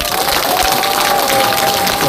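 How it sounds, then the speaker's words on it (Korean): An audience at a Taegukgi political rally claps in a dense, steady wash of applause that fills the whole moment, with no talk over it. "여러분 모두에게 박수 부탁드립니다"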